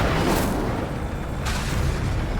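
An Incendio fire spell cast in the Hogwarts Legacy video game, heard as two loud, broad whooshing bursts about a second apart over a steady low rumble, with no talking.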